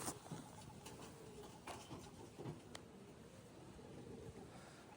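Soft racing pigeon cooing close by in a quiet setting, a few low murmuring calls over faint background noise.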